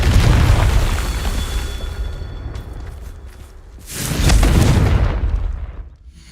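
Confringo blasting spell detonating in Hogwarts Legacy, two heavy booming explosions a few seconds apart, the first already rolling at the start and the second swelling loud before decaying into a rumbling tail.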